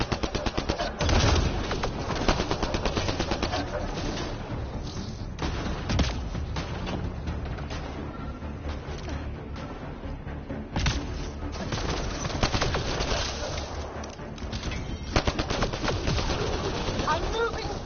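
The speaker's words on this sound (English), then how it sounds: "I'm shooting at the bloody barrier!" Dense gunfire from a firefight in Mass Effect Andromeda, weapons shooting at a barrier, with rapid shots and bursts running steadily throughout, loud and close, mixed with game effects and some voices.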